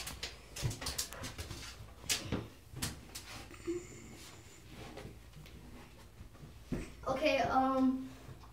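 A pitbull whimpers and yips in short high whines near the end, after scattered thumps and clatter, with a person talking over much of it.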